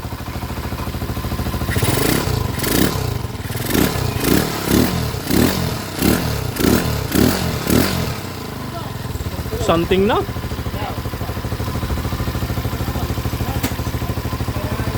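A 200cc motorcycle engine revs in a series of rhythmic bursts for several seconds, then settles to a steady idle while a voice speaks briefly.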